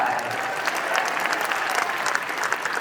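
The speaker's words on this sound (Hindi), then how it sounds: "अब तुम मुझे ऐसे ताली बजा रहे हो ना" An audience at Talkatora Stadium claps in sustained, dense applause from many hands, steady and fairly loud throughout the short stretch, with no voices standing out.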